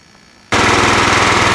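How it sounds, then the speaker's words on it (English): A John Deere L110 lawn tractor engine catches and starts abruptly after quiet, then runs loud and steady with a fast rhythmic chugging close by. "try to fire up that lawnmower"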